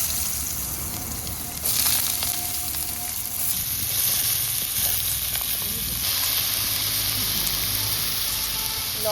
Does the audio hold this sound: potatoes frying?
yes